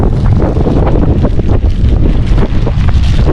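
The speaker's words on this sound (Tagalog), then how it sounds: "Lakas ng hangin o eh." Strong wind buffets the microphone on Hameem beach in Abu Dhabi during a fishing outing, a loud, steady roar with gusty low rumbling and no talking.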